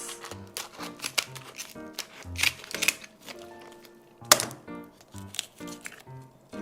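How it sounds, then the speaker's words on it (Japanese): Scissors snipping through the hard bones of an aggressive fish being butchered, a series of sharp crunching clicks and cracks in irregular bursts, close and crisp with quiet gaps between cuts. "でハサミで切っていきます。"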